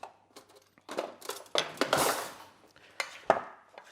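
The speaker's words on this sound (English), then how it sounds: "Let's grab a spoon." A spoon is grabbed from a collection of cutlery, giving a few sharp metallic clinks and a brief rattle of utensils in a quiet kitchen.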